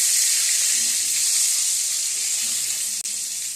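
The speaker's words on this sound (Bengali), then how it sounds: "এবার আলুগুলো এই একই তেলে আমি ছেড়ে দেবো।" Potatoes frying in oil in a pan, the same oil just used for eggs, for egg polao, a steady close sizzle with soft crackling and a brief dip near the end, with no talking.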